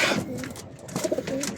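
Pigeons cooing close by, soft throaty coos repeating over a quiet background.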